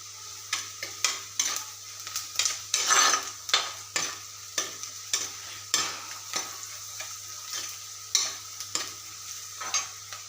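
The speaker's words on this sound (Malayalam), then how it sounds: "നമുക്കപ്പോൾ ഇതൊന്ന് ശരിക്കും വഴറ്റി കിട്ടാൻ വേണ്ടിയിട്ട് ഒരു 1 സ്പൂൺ ഉപ്പിട്ടിട്ട് കൊടുത്തിട്ടുണ്ട്." Onions with a spoonful of salt are sautéed in a pan, a soft sizzle broken by about twenty regular scraping strokes of a spoon against the metal, close and clear with nobody talking.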